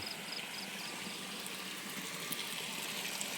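Steady, faint rush of water from a waterfall in a forest setting, a continuous soft hiss with no distinct splashes and no voices.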